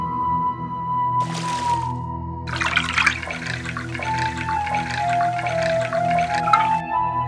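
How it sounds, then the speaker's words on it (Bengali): Water poured from a small brass pot in a village sweet shop, a broadband splashing pour in two bursts, brief then longer, over tonal background music. "এক ঘটি জল দাও।"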